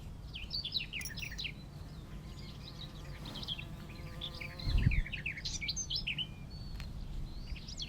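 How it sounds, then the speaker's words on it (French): Birds chirp and trill at a distance in scattered bursts over a soft background hum, with a brief low thump partway through. "Écoutez les oiseaux qui s'expriment au loin."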